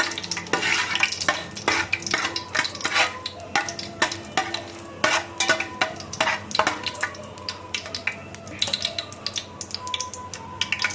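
Spices sautéed and stirred in a pan for kalan dum biryani, with a spatula scraping and tapping in rapid irregular strokes over a soft continuous sizzle, close and fairly loud.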